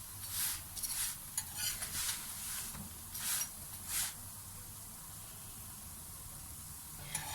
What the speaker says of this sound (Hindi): हल्की आंच पे हमने इसको पकाना है।